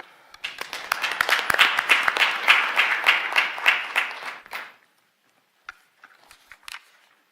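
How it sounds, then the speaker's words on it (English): A small group at a board of trustees meeting applauds, with close, crisp claps building for several seconds and then stopping abruptly, followed by a few scattered taps and claps in silence. "I think they deserve a round of applause."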